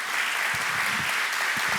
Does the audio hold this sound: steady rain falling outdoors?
no